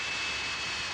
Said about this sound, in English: Big burner pops from the Aussie Invader